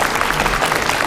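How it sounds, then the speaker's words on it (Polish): A short, dense burst of clapping from a crowd at a karate demonstration, steady and fairly loud throughout. "I wielkie brawa Sepa Jelena."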